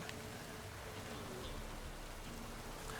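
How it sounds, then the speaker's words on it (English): Rain falls in The Witcher 3 as a soft, even hiss with faint scattered drops, quiet and unbroken throughout, with no voices. "You know, it's raining."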